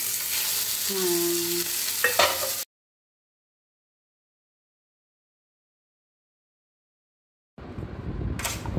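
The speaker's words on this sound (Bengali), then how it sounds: "হ্যাঁ, দিচ্ছি আমরা এর ভেতরে এই শাকের পেস্টটা।" Leafy greens paste hits a hot pan with black cumin and green chilli, sizzling and being stirred for a couple of seconds before a long silence, then sizzling returns briefly.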